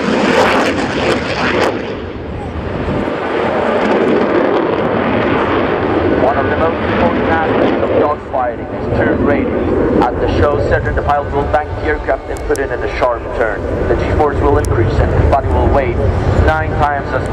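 A Polish Air Force F-16C Viper jet rolls through aileron rolls at the RIAT 2016 airshow, its loud engine roar swelling and fading across the sky while a public-address announcer talks throughout.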